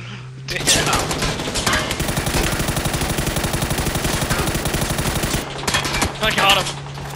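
Rapid automatic gunfire from a rifle fitted with a muzzle brake in PUBG, a dense sustained burst of several seconds framed by shorter shots, loud and close, with players talking over it.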